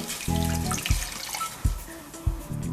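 Cola pours from a bottle into a saucepan with butter, making a short gurgling, splashing stream. Brief glugs and clunks break it up over a few seconds.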